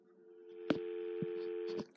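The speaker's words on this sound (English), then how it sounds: "There's dial tone, right?" A steady dial tone hums on a private telephone network, continuous and fairly quiet, broken by a few sharp clicks from handling the line before it cuts off.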